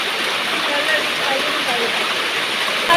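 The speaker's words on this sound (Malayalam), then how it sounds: "കയ്യൊക്കെ കഴുകാം" Water poured and splashing steadily as hands are washed during a home Bali Tharpanam ritual, a continuous close hiss-like splatter with only slight swells in level.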